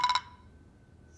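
A brief burst of electronic phone keypad beeps from dialing a telephone, three quick tones, then quiet.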